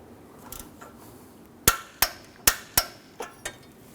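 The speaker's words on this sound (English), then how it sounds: "we're going to torque that down to 33 foot-pounds" Sharp metallic clicks from a torque wrench tightening an upstream O2 sensor on a 2006-2014 Honda Ridgeline 3.5L V6, a series of about six distinct close snaps over a faint background.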